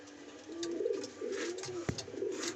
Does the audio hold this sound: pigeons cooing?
yes